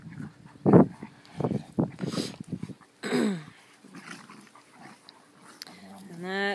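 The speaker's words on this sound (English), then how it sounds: "Now the big dogs are playing." Large dogs playing together, giving short growls, barks and whimpers in uneven bursts close by, with a few rising whine-like yelps near the end.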